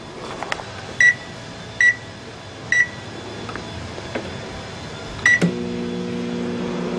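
Several evenly spaced beeps from keypad presses on a microwave oven running with its cover off, then a longer tone as it starts and settles into a steady low hum.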